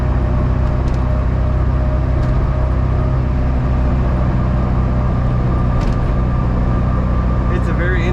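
A 1976 Steyr-Puch Pinzgauer military vehicle with a 5-speed gearbox driving on a paved road, its loud, constant engine rumble and road noise filling the cabin without pause.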